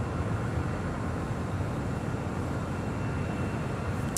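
A Lufthansa Airbus A350 departs LAX bound for Munich, a continuous broad jet roar holding at an even, fairly loud level from start to finish, with no voices.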